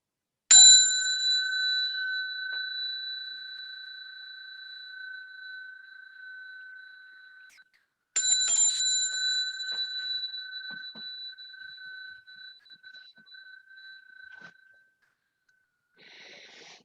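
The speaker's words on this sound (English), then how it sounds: "So I'll ring 1 bell for us to bow to each other, 2 bells to bow to the Buddha." A meditation bell is struck twice for bowing, each strike a clear, sustained ring that slowly fades over several seconds in a quiet room, with a faint chime at the very end.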